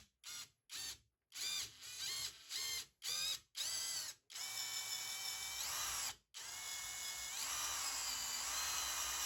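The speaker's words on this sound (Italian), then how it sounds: "sto utilizzando un avvitatore che non ha il mandrino che mantenga la punta sulla sede" A cordless drill driver with no chuck holding the bit cuts a thread with a tap, using cutting oil. Short whirring bursts with pauses, then longer steady high-pitched runs, close and loud; no talking.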